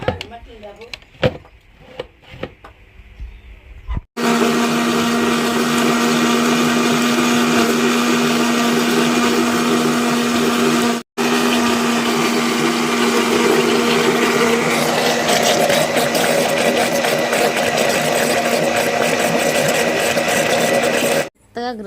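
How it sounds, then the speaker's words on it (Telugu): A mixer grinder blends bananas for juice, starting abruptly after a few seconds of quiet handling and running as a loud, steady motor whine with a brief cutout midway, then churning on until it stops. "ఇప్పుడు మిక్సీ అయితే తిరుగుతుందండి"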